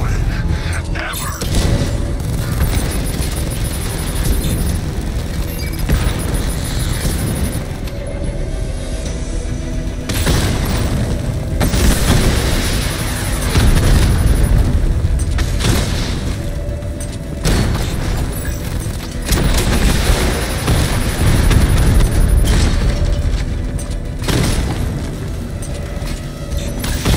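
Batman Arkham Knight game combat brings dense, continuous booming explosions and heavy cannon fire with mechanical rumble, loud and close throughout, with voices talking over parts of the din.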